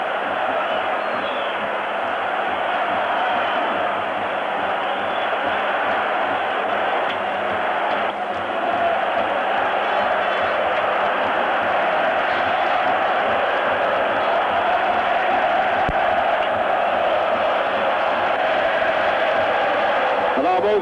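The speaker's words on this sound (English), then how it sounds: "those people in the stadium standing and singing as only an Italian crowd knows how" An Italian football crowd packs the stadium at a European Cup match between Roma and Dundee United, a steady massed roar of singing voices holding throughout, loud and distant-sounding, with a commentator's voice over it.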